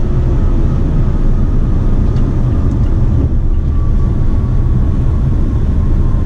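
A 2018 Mazda CX-5 engine pulls hard under full throttle at around 3,000 RPM, a loud, steady drone with broad road and wind rumble filling the cabin throughout, no voices heard.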